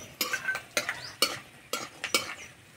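Nuts and raisins are fried in oil in a pan and stirred with a metal spoon, giving regular scraping clinks about every half second over a soft sizzle, close and without talk.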